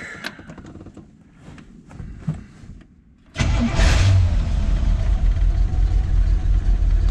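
A 1966 Chevrolet Corvette coupe engine cranks and catches, then settles into a loud, steady idle that continues to the end.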